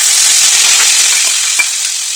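Butter added to a hot pan gives off a loud, steady hiss of sizzling close by that fades slightly near the end, with one small pop.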